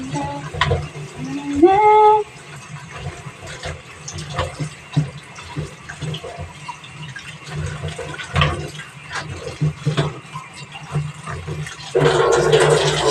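Vegetables are rinsed under a running kitchen tap, water pouring and splashing continuously at close range with some clattering, and a person speaks briefly.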